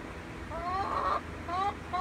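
Backyard hens at the end of the day give short, clustered clucks and murmuring calls, close by, in a couple of bursts.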